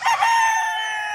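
A Boston Roundhead gamefowl rooster lets out a single loud, close crow that holds its pitch and fades out slowly, with no one speaking.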